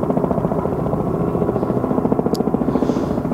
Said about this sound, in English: We've got two helicopters now.